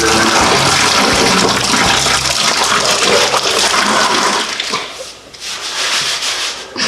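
Fluid drains from a truck into a bucket, a loud continuous rushing, splashing pour that briefly thins and dips before surging again.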